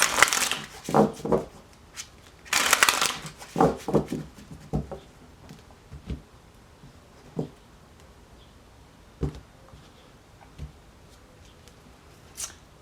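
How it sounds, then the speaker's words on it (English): Bursts of tarot card shuffling, riffles and quick flicks, dense at first then spaced out into occasional single taps and shuffles, close up with no talking. "two more shuffles"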